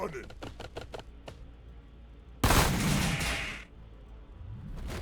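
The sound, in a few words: bolt pistols firing in Warhammer Battlesector video game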